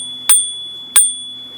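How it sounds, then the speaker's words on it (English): Two crisp dings from the handlebar bell of a NAVEE V40 Pro electric scooter, struck about two-thirds of a second apart, each leaving a clear ringing tone that hangs and slowly fades, loud and close with no voices. "We have our bell."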